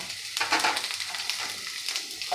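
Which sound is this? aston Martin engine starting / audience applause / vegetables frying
vegetables frying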